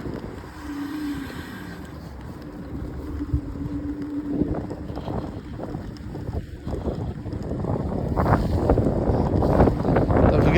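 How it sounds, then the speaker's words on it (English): Strong wind roars and buffets the microphone during a ride up a hill on a Segway Ninebot Max G2 electric scooter, a loud, continuous rushing rumble that swells toward the end. "I'm sorry about the wind and stuff."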